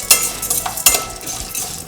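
Peanuts frying in a pan for mango pulihora, with a few clinks and stirring scrapes of a utensil over a soft, steady sizzle, no talking.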